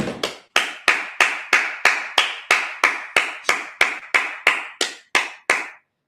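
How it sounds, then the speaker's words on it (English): A congregation at a Sabbath service claps in unison, about fifteen sharp, evenly spaced claps at a steady rhythm, loud and close, with no talking over them. "Let's clap it up."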